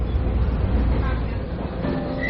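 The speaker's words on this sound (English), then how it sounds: "I've hopped onto the old Pingxi railway line and to one of the older trains that takes in a lot of the smaller villages around Taipei and beyond." An old train on the Pingxi railway line near Taipei, Taiwan, heard from on board: a steady, loud low rumble and rattle of the carriage running along the track.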